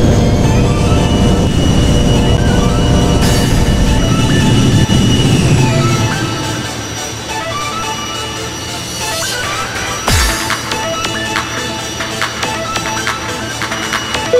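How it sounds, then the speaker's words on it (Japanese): A Boeing 747 airliner lands at Hiroshima Airport in the video game Jet de Go 2. A loud, broad engine roar fills the first six seconds, then settles into a quieter steady hum with a thin whine and a brief thump near the end. "ただいま広島空港に着陸いたしました。"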